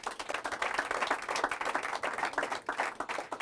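Church congregation breaking into sustained applause, dense rapid clapping from many hands filling the room at steady loudness with no talk over it.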